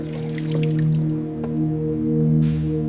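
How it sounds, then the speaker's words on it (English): Fluid drips from a fire-destroyed Ferrari F8 Spider in a restoration workshop, a few small, soft drops and squishy taps heard close over a steady low mechanical hum. "Watch the drip."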